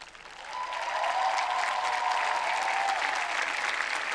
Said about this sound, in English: give yourself a resounding round of applause